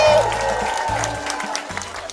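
An audience at a district school leadership meeting claps and cheers briefly, with a burst of applause that starts loud and tapers over two seconds beneath a low background hum.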